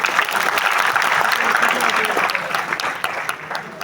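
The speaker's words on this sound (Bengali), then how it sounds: "আজকের সেলিব্রিটিদের জন্য জোরে একটা করতালি আশা করছি" Applause from an audience at a celebrity ceremony in a hall, with dense, sustained clapping close by that fades slightly toward the end.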